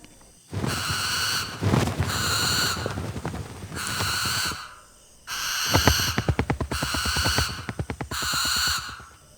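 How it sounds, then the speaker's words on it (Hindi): Owls give long harsh screeching calls in repeated bursts, some rough and pulsing, loud and close, separated by short pauses. "4 उल्लू कंठ से भयंकर चीखों की आवाज़ें निकालते हुए बाहर निकले"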